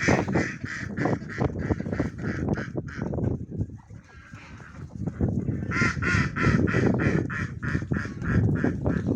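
A flock of ducks quacking close by, with repeated loud calls in quick bursts and a brief lull in the middle.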